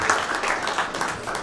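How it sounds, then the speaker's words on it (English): Audience at a Denver candidate forum applauding, a steady wash of many hands clapping that stays even and moderately loud for the whole stretch, with no talk. "Round of applause for Chuck."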